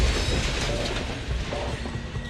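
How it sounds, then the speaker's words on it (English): A train rumbling past in the video game Zenless Zone Zero, a steady, loud, broadband roar with heavy low rumble and metallic grind sustained throughout, no talk. "That must be the train going by."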